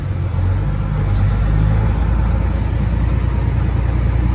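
Loud, steady rumble of an owner-operator's flatbed truck engine idling close by, echoing off a nearby building, with no talk.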